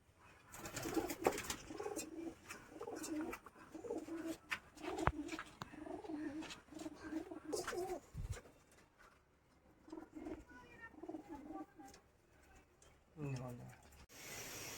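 Young pigeon chicks, a male and a female, coo in bursts after being let out of their coop, the calls mixed with close chatter, handling noise and someone speaking over them.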